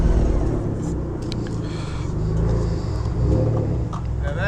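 A 2018 Harley-Davidson Breakout 115th Anniversary motorcycle on the move, with a deep, steady engine rumble and wind noise heard close from the rider's position throughout.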